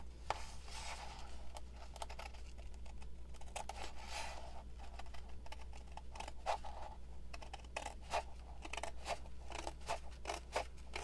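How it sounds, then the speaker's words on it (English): Scissors snip through paper in a quiet room, a string of short crisp cuts in uneven bursts, faint and close, with no voices. "So let's hope that I can cut a straight line here."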